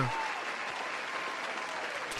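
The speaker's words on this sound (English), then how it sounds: "And everybody's clapping." Steady crowd applause rolls on continuously, moderately loud and even, with no distinct individual claps standing out.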